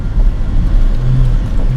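A Toyota Celica Sports M, a rare JDM model, rumbles with a steady low engine drone that carries a brief rising rev tone partway through, heard close and without any voices.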